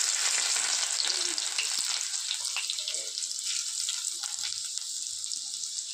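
Garlic sizzling in hot oil with whole spices and dried red chillies for a tomato and coriander dal: a steady, fairly loud frying hiss that fades slightly toward the end, with no one talking.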